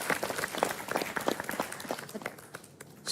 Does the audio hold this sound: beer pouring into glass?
no